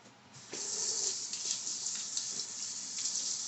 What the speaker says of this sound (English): Just wash off my hand.